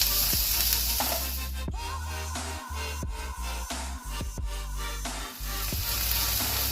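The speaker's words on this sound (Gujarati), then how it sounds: "આખા ધાણા, વરિયાળી અને જીરુંના મસાલાને આપણે બરાબર તેલમાં સાતળી લઈશું." Whole coriander, fennel and cumin seeds sautéing in hot oil, a steady close sizzle with occasional sharp pops and clacks from stirring.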